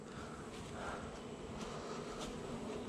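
Honey bees swarm and buzz around an opened hive while honey is being removed, a dense continuous drone close to the microphone, steady throughout with light wind noise.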